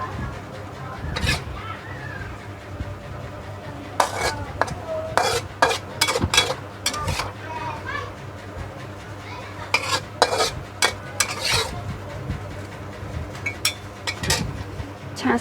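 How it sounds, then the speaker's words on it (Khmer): Stir-fried bok choy with pork belly is scooped from a pan onto a plate, with repeated sharp metal scrapes and clinks of a spatula against cookware in bursts over a low steady hum. "ឥឡូវខ្ញុំដួសដាក់ចាន"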